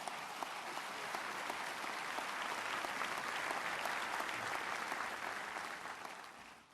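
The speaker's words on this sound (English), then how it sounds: "Bob Megna, give him a round of applause." Audience applause for a state budget director at a governor's budget presentation, a steady, dense wash of clapping from a large crowd that holds for several seconds and then begins to taper off.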